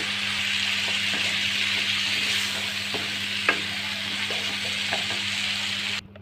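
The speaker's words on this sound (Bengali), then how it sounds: "এখানে আমি প্রায় 10 মিনিটের মতন মশলা কষিয়ে নিচ্ছি। দেখা যায় যে তেল ছেড়ে দিচ্ছে।" A spice paste is fried in oil for a radish and potato fish curry, making a steady close sizzle broken by a few soft stirring knocks before it cuts off abruptly at the end.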